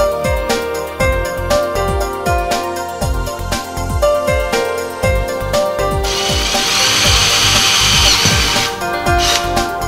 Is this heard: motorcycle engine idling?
no